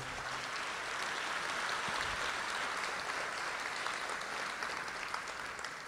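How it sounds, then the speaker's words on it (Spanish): An audience at a university inauguration event in Peru claps in a steady, even wash of applause that carries on for several seconds, moderately loud and unbroken. "Palmas."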